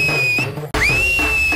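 A man whistles two sustained, fairly loud notes with a short break between them, the second rising into a long held pitch.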